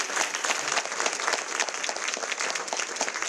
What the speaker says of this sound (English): Please, another round of applause to these amazing two people.